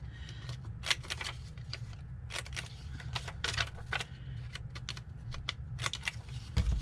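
Scissors snip around the corners of a paper envelope: a run of short, crisp cuts close by, in irregular bursts over a faint low hum, with no voices.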